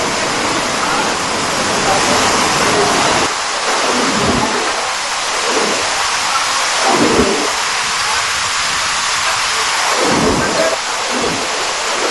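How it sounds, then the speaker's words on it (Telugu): Loud, steady rush of heavy cyclone rain in Karimnagar district, dense broadband hiss, punctuated by a few deeper low rumbles and gusts throughout. "మొంతా తుఫాన్ ప్రభావంతో ఇప్పుడు మళ్లీ వాన"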